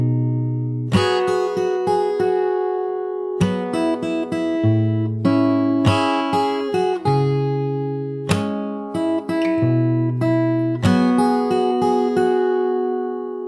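Plucked acoustic guitar plays a fingerpicked chorus of a song with bass notes and ringing melody, steady and close, no voices, moving through several chord changes.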